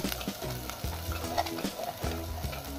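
Masala with chili powder stirred and frying in oil in a pan for a Maharashtrian drumstick curry, with a steady sizzle and repeated scraping strokes of a spoon, close and alone.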